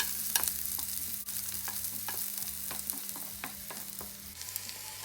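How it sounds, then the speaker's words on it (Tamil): Chopped vegetables for ratatouille sizzle softly in oil in a pot, with a spoon stirring and scraping in irregular clicks and taps close by. "கொஞ்சம் கொஞ்சம் எண்ணெயை விட்டு வெட்டின எல்லாத்தையும் தனித்தனியாக வதக்கி ஒரு சட்டிக்குள்ளே போடுவோம்"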